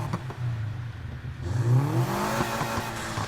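Lotus Exige S flat-four engine in Need for Speed Heat revving up, a steady low drone that rises into a louder, climbing rev with harmonic whine, close and alone with no talk.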